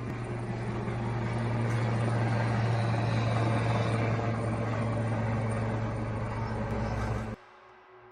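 Helicopter flying overhead over a mountain pass, a steady loud droning rotor and engine hum with a strong low tone, holding level for several seconds before cutting off abruptly near the end.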